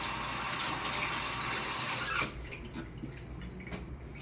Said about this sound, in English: I'm also going to wash my hands to prevent any cross contamination